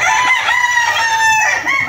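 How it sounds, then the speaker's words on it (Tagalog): A pure golden boy brood stag rooster crows once, loud and close, a drawn-out call lasting nearly two seconds with no other sounds around it. "Yan po isa sa ating pure golden boy na brood stag."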